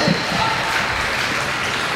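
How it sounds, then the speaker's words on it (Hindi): A crowd claps through a Hindi poetry recital (kavi sammelan) at BHU, a steady wash of applause from the audience with voices mixed in. "एक बार जरा आपकी तालियां हो आगे से पीछे तक"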